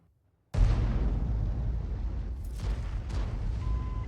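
A World of Tanks tank cannon firing a shell: one sudden loud blast out of near silence, followed by a long rumbling roar that carries on to the end with a few fainter secondary bangs.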